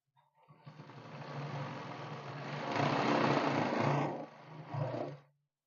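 A sewing machine stitches elastic into a pajama waistband, its motor rising from quiet to a steady, fast buzzing run, swelling louder mid-seam, then a brief final burst before stopping, close and alone.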